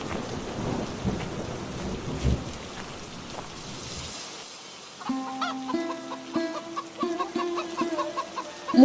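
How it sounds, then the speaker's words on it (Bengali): Rain on a farm in the evening, with a thunder rumble and steady downpour at first, then chickens clucking close by in a string of calls as the rain noise fades. "এদিকে সন্ধ্যা হয়ে এলো, বৃষ্টিও শুরু হয়েছে।"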